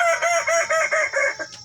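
A Kukuak balenggek rooster crows loud and close, its long call rising and falling in a steady series of repeated undulating notes, with no voices over it.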